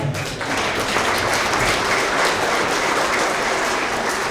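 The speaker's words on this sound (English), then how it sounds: "Let's give another round of applause to our second grade Tigers of the quarter." Sustained, loud applause from a crowd of children and adults at a kindergarten to second grade school award assembly, a thick, even wash of many hands clapping that carries steadily throughout.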